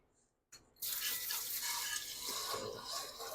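Tap water runs steadily into a sink while salt is rinsed off sausage casings. The water starts with a brief splash and then becomes a loud, continuous rush that stays close to the microphone.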